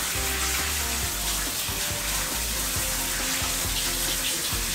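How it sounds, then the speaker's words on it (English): Cold tap water pours steadily into a kitchen sink to rinse peeled shrimp, a loud, continuous splashing rush close by with no voices. "I'm just gonna give these a quick rinse in cold water"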